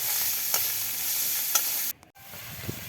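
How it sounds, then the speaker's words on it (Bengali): Shrimp frying in a pan for a village-style Bengali curry with ash gourd, a steady sizzle with a few stirring clicks, a sharp break near the end, then the frying resumes. "এখন চিংড়ি মাছগুলো দিয়ে দিচ্ছে।"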